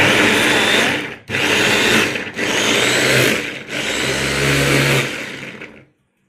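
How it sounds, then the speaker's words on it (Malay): Kitchen blender grinding chili, lemongrass and turmeric to a coarse paste for beef tripe curry: loud, close whirring in three long bursts with brief pauses between, then stopping, no talk. "Cili. Kunyit. Kita kisar sehingga lumat."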